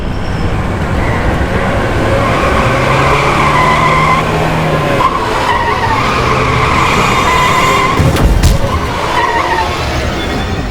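A car's tires squeal and skid loudly as it tears away at night, the harsh screech rising over rough engine roar and settling into a long smeared scrape, with no voices.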